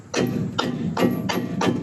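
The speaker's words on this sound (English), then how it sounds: "Now just grab a piece of wood and let's hammer on this control arm." Five evenly spaced heavy thuds of a hammer striking a wooden block against a VW Mk1/Mk2 control arm, close and loud, with a brief ringing after each blow.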